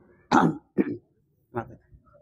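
Two or three harsh coughs very close to the microphone from a speaker at a mosque lecture, a sharp loud burst followed by a shorter cough and then a fainter one, with no speech.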